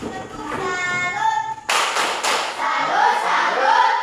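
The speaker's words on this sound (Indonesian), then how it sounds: "Berikan tepuk salut" Students in a Christian religion class in Merauke give a salute clap. Voices and tones come first, then a sudden burst of close, rhythmic group clapping with thuds and patterned beats mixed with chanting voices.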